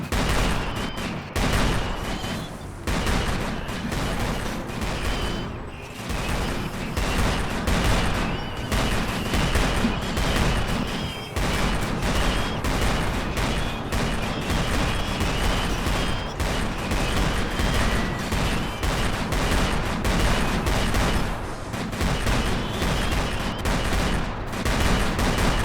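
Skeletons fire at the player in a video game battle, producing a dense, continuous barrage of overlapping gunshots and rattling volleys that stays loud and relentless from start to finish.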